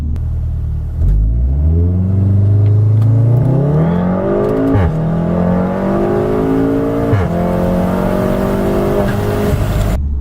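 A tuned 500-horsepower VW Golf 7R accelerates hard, its engine and exhaust rising in pitch through the gears in a loud, sustained run with brief dips at each shift.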